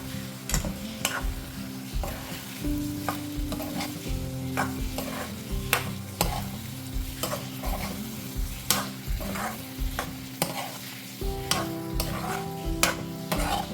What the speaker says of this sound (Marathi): आता पुन्हा एकदा आपण सर्व हे घाटून घेऊया.